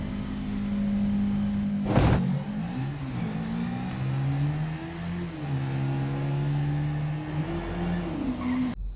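Chevrolet Nova drag cars in GTA V roar down a road, engines revving with shifting pitch and a sharp tire-skid burst early on, the engine drone sustained and loud throughout.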